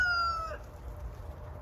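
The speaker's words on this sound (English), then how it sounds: "You chickens better not be getting too crazy over there." A single drawn-out chicken call, rising and then fading within half a second, followed by low rumbling background noise and no further calls.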